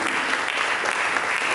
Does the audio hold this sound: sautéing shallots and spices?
no